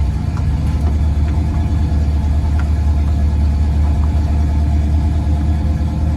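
A 1981 Oldsmobile Delta 88 engine runs rough and low, close to stalling after being put in gear, with a steady loud rumble and uneven pulsing throughout.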